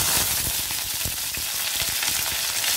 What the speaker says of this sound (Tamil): இப்போ வந்து நம்ம தேவையான அளவு வந்து கருவேப்பிலை போட்டுக்கலாம்.